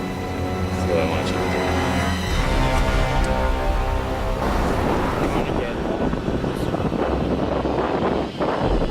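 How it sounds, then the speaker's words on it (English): Strong storm wind picking up outdoors, buffeting the microphone with a low rumbling roar that thickens midway, while a person talks over it early on. "Wind's picking up."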